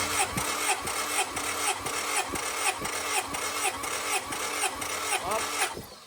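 Honda Civic VTi with a D16z6 engine and Crower all-motor build cranking over on the starter during a compression test before first startup; rhythmic, even chugging pulses repeat steadily at moderate loudness without firing.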